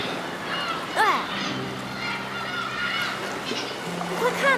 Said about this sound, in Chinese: 快看呐，海鸥！